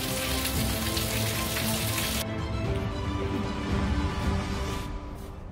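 Heavy rain pours steadily at Glorietta Bay, a dense hissing roar of drops on surfaces that stays constant throughout with no voices.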